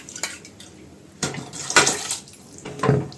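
Water poured into a pot of cooking dal and spinach, with a few short splashing pours and clinks of utensils against the pot, close and moderately loud.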